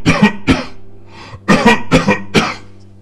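Coughing sound effect evoking ghosts coughing at Corpse Rock in a national park, a cluster of harsh, close coughs in two bursts, a couple of hacks then four rapid ones, loud and dry with no talking.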